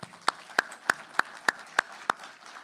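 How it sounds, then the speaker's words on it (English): Single-person claps ring out at a graduation ceremony, about seven sharp, evenly spaced hand claps, close and fairly loud over a quiet background rather than a full crowd's applause. "How about another round of applause for Dr."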